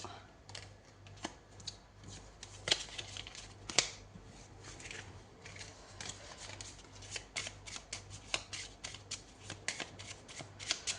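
Tarot cards are shuffled by hand in a steady run of crisp, rapid riffling flutters and snaps, close and fairly quiet over a low electrical hum, with no talking.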